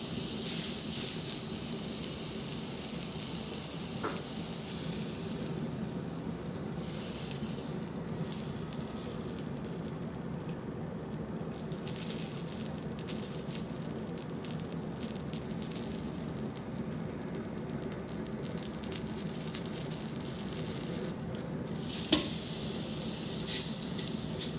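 Steak sizzling on a hot grill, a steady close hiss and crackle with occasional soft pops and clinks, continuous and fairly quiet with no talk.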